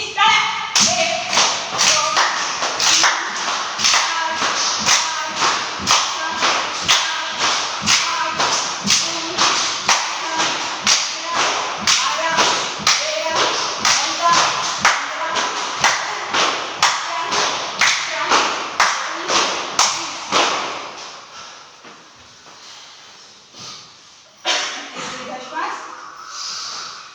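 A yoga group claps in a steady rhythm, sharp and loud, roughly two claps a second for about twenty seconds before it softens. A few isolated claps follow.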